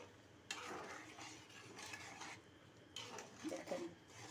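Fried mung dal is stirred into a pot of muri ghonto, giving soft scraping and rustling bursts that come and go over a faint, steady kitchen hiss.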